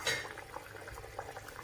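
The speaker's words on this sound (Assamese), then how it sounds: "এইখিনি উতলিছে, তেতেলীও নিজে নিজে গলি যাব।" A pot of fish curry with tamarind and pumpkin simmers on the stove, giving off faint, soft bubbling with a light clink of cookware at the start.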